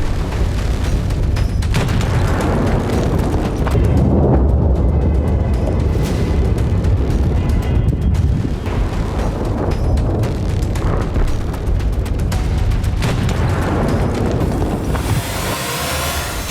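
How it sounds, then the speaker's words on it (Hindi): Heavy bunker buster bomb strikes in Tehran, heard as a sustained, loud low rumble of blasts and booming with roaring wind-like noise, continuous for the whole stretch with no talk. "तेहरान में बंकर बस्टर बम से हमले की ये तस्वीरें"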